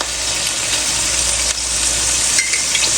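Chicken frying in a pan with tomato paste going in, giving a steady, close broadband sizzle with light stirring scrapes throughout and no talking.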